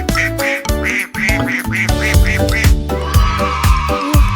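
A repeated quacking duck sound rides over a bouncy musical backing with steady drum hits, quacks coming in a quick rhythmic series.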